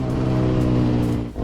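A cheap 250cc EFI dirt bike from Walmart revs steadily and loudly close by through a restrictive-looking muffler, the engine holding a buzzing drone for over a second before briefly dipping and picking back up.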